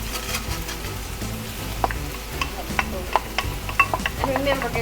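Dry barley is tossed into hot oil and stirred in a pot, giving a close sizzle with repeated spoon scrapes and ticks against the pan, under faint background music.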